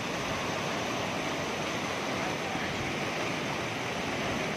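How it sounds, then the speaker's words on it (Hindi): Steady, dense rushing of flowing water at Bhatinda Falls near Dhanbad, continuous and unbroken, like a stream or small fall close by. "देखिए पानी का बहाव भी अच्छा है"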